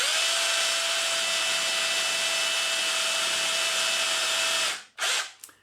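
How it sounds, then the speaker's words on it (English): A power drill without hammer action bores into a solid concrete block, a loud, steady high motor whine for several seconds that cuts off, followed by two short bursts of drilling. "if we just try drilling that with no hammer action on"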